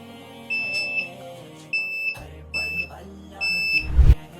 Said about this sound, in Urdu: یہ سرکٹ ہم نے تیار کیا ہے جو موشن کو ڈیٹیکٹ کر رہا ہے اور الارم دے رہا ہے۔